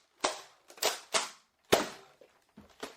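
A Nerf pistol blaster being loaded, giving a series of about seven sharp plastic clicks and snaps in an uneven rhythm, close and fairly loud with no voices.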